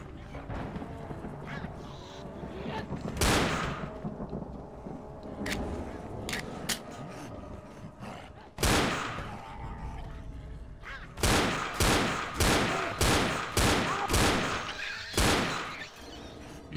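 Pistol fire in the zombie shooter game Left 4 Dead: sharp, loud individual shots, a few spaced early on, then a rapid run of closely repeated shots near the end over a busy game background.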